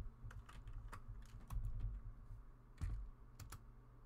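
Close keystrokes on a computer keyboard as a password is typed, a quick irregular run of light clicks with a few heavier key presses and brief pauses between bursts.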